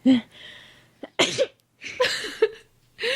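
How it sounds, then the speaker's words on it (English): A few short, explosive bursts like sneezes or coughs, close by, separated by brief breaths and pauses. "And finally she sneezed."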